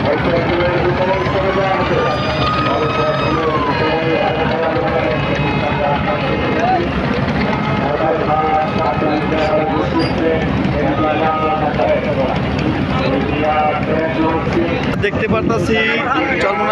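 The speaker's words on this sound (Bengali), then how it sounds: "ঘাট থেকে দ্বিতীয় নাম্বার যে লঞ্চটা ছাড়া হচ্ছে" The fast passenger river launch MV Eagle 8 departs a crowded ghat after the Char Monai mahfil, with a loud, continuous engine drone, a tonal horn-like wail early on, and voices talking throughout.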